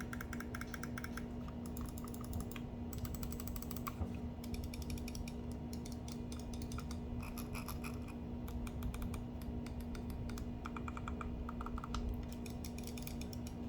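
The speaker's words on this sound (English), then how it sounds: "Let's just do a quick little sound test of the mouse" Quiet, sharp clicks repeat in irregular bursts against a steady low hum: the buttons of a Razer Basilisk Ultimate computer mouse, including its sniper button, pressed up close.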